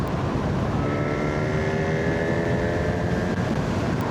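A 2025 Honda Hornet 1000 motorcycle pulling hard in sixth gear from about 4,500 rpm, a loud steady engine drone rising slowly in pitch under heavy wind rush at the rider's microphone.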